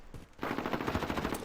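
Rapid automatic gunfire in a 5v5 shooter tournament match bursts in after a short quiet moment, firing through smoke as a steady, loud rattling stream.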